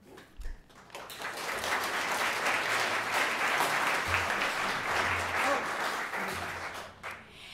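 Sustained applause from an audience at an arts awards ceremony, loud and steady for about seven seconds before tapering off at the end.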